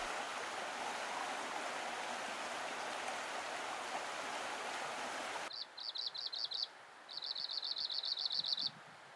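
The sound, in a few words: white-crowned sparrow singing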